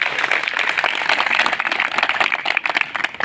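Loud, dense applause from a crowd at a sanitation workers' workshop in Keshavpuram zone, sustained clapping filling the whole moment with no break.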